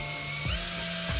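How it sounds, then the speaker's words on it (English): A power drill boring a hole straight through a box, a steady high whine with two brief dips in pitch as the bit bites, close and loud with no talk. "And drill a hole straight through."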